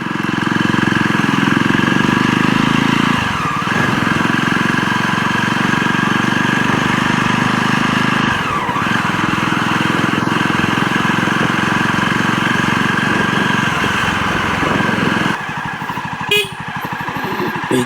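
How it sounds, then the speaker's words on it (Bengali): A motorcycle riding along a road on Mousuni Island, its engine a loud, steady drone right at the mic that dips briefly now and then before a rougher, fluttering stretch near the end. "মৌসুমী আইল্যান্ডের ভিতরে দিয়ে এই বাইক চালিয়ে যেতে"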